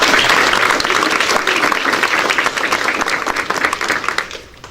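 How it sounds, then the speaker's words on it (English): Applause for West Green Elementary School students at a Coffee County school board meeting, a dense, loud burst of clapping from a roomful of people that fades out near the end. "Let's give them another round of applause"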